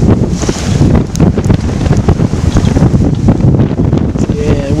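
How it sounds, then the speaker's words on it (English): Strong wind of about 23 to 25 knots roars across the microphone while a sailboat crosses rough water in the Exumas, a loud, constant buffeting rush with splashing underneath. "We've got 23 to 25 or so knots of wind."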